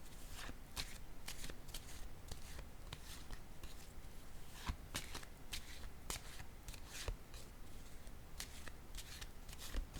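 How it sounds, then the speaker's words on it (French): Tarot cards are shuffled and drawn by hand at close range, with a steady stream of soft riffling and sharp card snaps throughout. "Je vais piger une autre carte ici."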